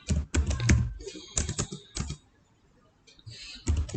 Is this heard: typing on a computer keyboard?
yes